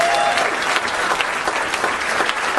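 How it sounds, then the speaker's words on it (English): A comedy show audience breaks into loud, dense applause, many hands clapping continuously throughout, close and full, with a few louder individual claps standing out. "Give him a big round of applause."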